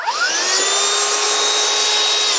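A household vacuum cleaner, checked to confirm it still works, roars steadily at close range with a high motor whine running unbroken throughout, no talking.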